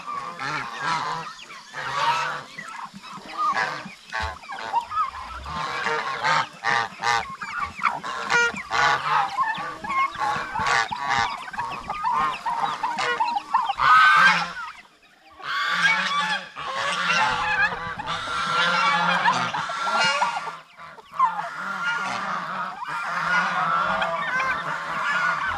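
A flock of geese honks continuously and fairly close on a farm in the Philippines, with overlapping calls and brief pauses between bursts.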